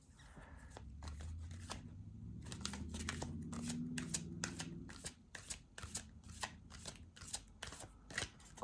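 Cards are shuffled by hand for a card reading: first a continuous riffling blur, then a run of crisp, rhythmic snaps and taps, close and clear with no talking.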